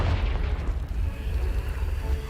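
A deep, sustained rumbling boom from the Confringo blasting spell in Hogwarts Legacy, loud and heavy in the low end, rolling on without a break like rubble collapsing after the blast.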